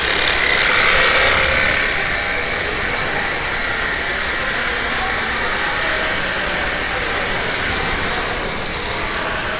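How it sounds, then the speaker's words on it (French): A steady, loud buzzing jigsaw whine runs continuously with a rough, grinding texture in a modding workshop, no talking. "Il y a découpage avec une scie sauteuse."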